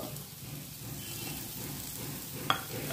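Pieces of bottle gourd hit onions frying in a pan, giving a steady, close hiss of sizzling oil with one small clink partway through.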